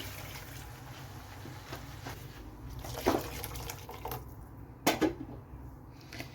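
Water, about one and a half cups, is poured into a pan of oats for Kerala-style oats upma, heard as two brief close splashy gushes over a quiet kitchen background.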